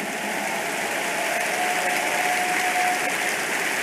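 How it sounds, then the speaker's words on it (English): A church congregation claps in praise during a worship service, producing a steady, dense and fairly loud wash of applause with no talking over it. "Give the Lord a big clap of praise."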